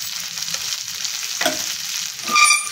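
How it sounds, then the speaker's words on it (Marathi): Cut pieces of a fasting-day snack sizzle steadily in a pan, with a couple of brief stirring scrapes near the middle and end; no voices. "आपण जे हलवा आहे कट करून घेतलेले ते आपण फ्राय करून घ्यायचे"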